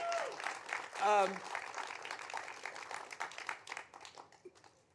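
An audience at a City Hall dedication ceremony breaks into applause, a steady patter of many hands at moderate distance, with a voice rising briefly over it and clapping continuing to the end.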